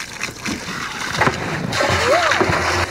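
Water splashes and sloshes while a pig is washed outdoors on a farm, a steady wet spray running throughout, with voices talking over it and some nearby movement.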